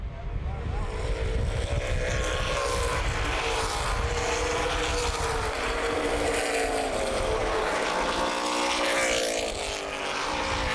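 Late model race cars roar around Baer Field Speedway, a continuous loud, droning engine din with shifting pitch as the cars pass, under a commentator's steady track call.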